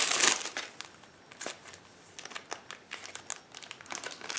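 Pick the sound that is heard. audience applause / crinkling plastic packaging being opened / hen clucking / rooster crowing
crinkling plastic packaging being opened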